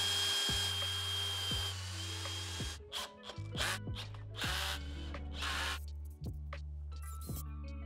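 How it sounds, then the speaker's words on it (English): A drill whirs in several short bursts, followed by screws driven in to fix box sidewalls to the main panel of a fiberglass mold for R34 side skirt extensions. The sound is close, over a steady background drone. "I simply pre-drilled a couple of holes all around and screwed the sidewalls of the box to the main panel"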